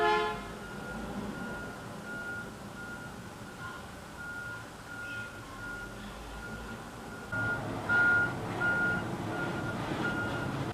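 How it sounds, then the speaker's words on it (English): Garbage truck outside, heard at a distance with a low engine rumble and a repeating reversing beep that grows louder near the end, faint overall with no talking. "Now there's a garbage truck."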